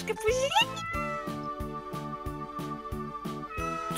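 Cat meowing in Minecraft, a rising mew at the start followed by a regular series of short repeated mews over a rhythmic background beat, near and clear.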